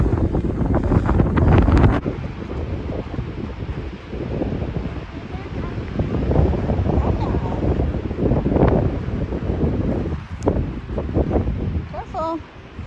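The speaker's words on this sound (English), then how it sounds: "It's very windy." Strong gusty wind blows across the microphone beside a lake at Riggs Flat Lake on Mount Graham, with a loud, steady rush that rises and falls in gusts. A person talks over it at times.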